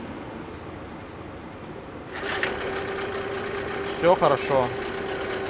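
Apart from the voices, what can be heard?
Hangkai 9.8 outboard boat motor running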